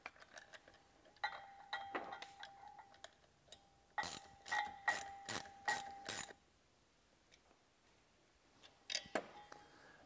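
A 9/16 box wrench ratchets a bolt down onto a wear pad and washer, giving a close run of sharp metallic clicks in bursts, with a quicker, louder series in the middle.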